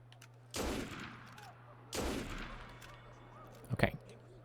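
Pistol shots in Assassin's Creed, two sharp reports roughly a second and a half apart with short decaying tails, then a brief cluster of quicker cracks, all fairly quiet over a low steady hum.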